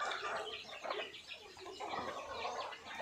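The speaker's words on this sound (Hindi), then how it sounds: "देख सकते हैं छोटे छोटे कड़कनाथ के बच्चे" A crowd of young Kadaknath chicks cheeps and chirps continuously nearby, with many overlapping high peeps and soft clucking.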